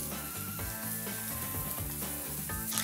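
Meat for a roast sears in a very hot, smoking pan, giving a continuous close, dense sizzle throughout with no talking.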